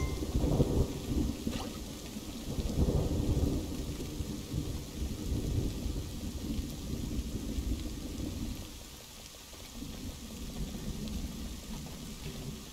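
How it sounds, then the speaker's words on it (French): Rain and thunder in the video game Kingdom Two Crowns at night, steady rainfall with deep rolling thunder rumbles surging early and fading later, no talking. "Ah mais on voit pas, il pleut."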